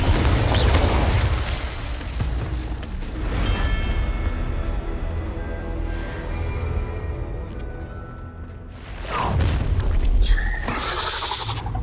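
Blasting Confringo spell explosions in Hogwarts Legacy, loud low booms rolling through the opening seconds and again near the end, with a sustained rumbling game soundscape between.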